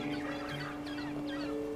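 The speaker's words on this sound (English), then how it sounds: "Oh, look, birds." Fowl clucking and honking in the Broken Age video game, a steady cluster of bird calls over a continuous ambient bed, moderately quiet with no talk.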